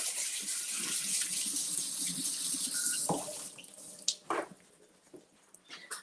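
Tap water runs steadily into a kitchen sink as strawberries are rinsed, a continuous hiss for about three seconds, then stops, leaving scattered drips, clinks and handling sounds.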